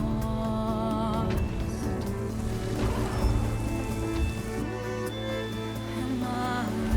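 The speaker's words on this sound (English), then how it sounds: "raindrops" Rain falls steadily in the video game Horizon Forbidden West, a continuous patter of drops heard under a sustained musical score.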